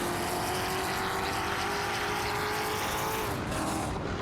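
Race cars in an AI racing game, among them a Holden Monaro GTS 73, battle for position with a continuous loud engine drone and shifting tones as they run close together.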